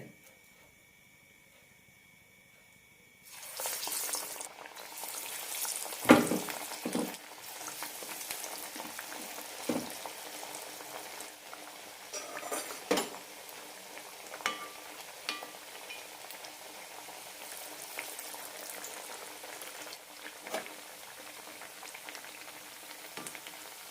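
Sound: chana dal vadas frying in hot oil

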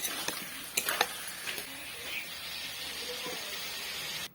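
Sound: fried potatoes being stirred with spices in a pan

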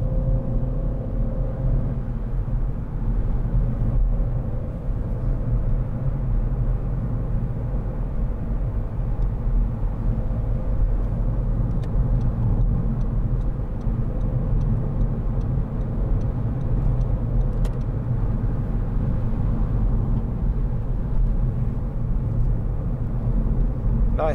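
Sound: 2012 SEAT Ibiza car driving on road

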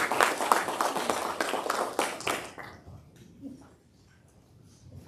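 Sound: congregation hand clapping in praise at church worship

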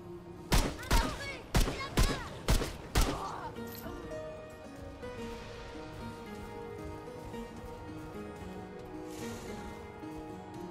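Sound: gunfire from video game Remnant II

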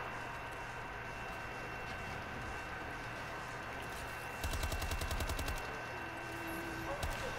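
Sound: gunfire in the Call of Duty Advanced Warfare video game

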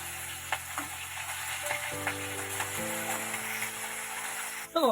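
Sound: fish frying in oil

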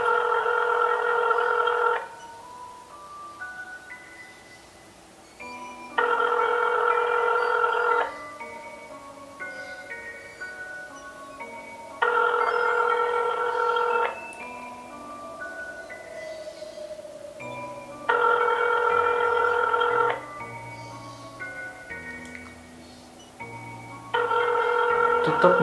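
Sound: phone call ringing, not answered

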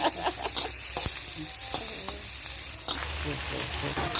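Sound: stir-frying shrimp with curry powder

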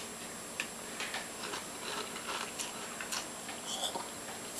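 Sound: eating a spoonful of breakfast cereal, chewing

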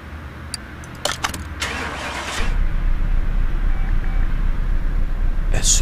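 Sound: car engine starting in Car Mechanic Simulator 2018 video game

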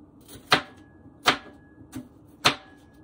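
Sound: chopping onion with a knife

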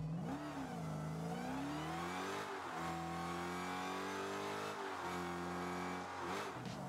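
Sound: Dodge SRT Hellcat engine revving in video game Rocket League

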